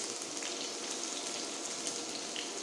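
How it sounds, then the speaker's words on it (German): Carrots frying alongside bacon in a pan, a continuous bright crackling sizzle, close and steady, no talking. "Wenn euer Speck die gewünschte Farbe hat, dann gebt ihr erstmal eure Karotten hier hinzu."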